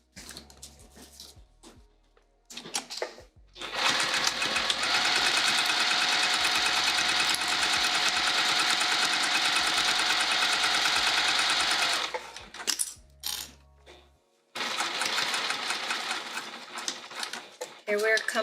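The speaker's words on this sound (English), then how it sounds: "We're going to sew all these layers in place and then flip it and top stitch." Sewing machine running steadily for long stretches while stitching through layers of a vinyl bag, a loud close mechanical whir with brief stops and restarts, and a quieter start at the beginning.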